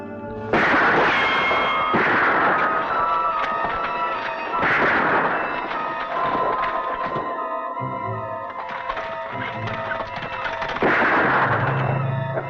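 Several sharp gunshots ring out at intervals in a scene from the western TV series Death Valley Days, each a loud crack heard over a continuous musical score.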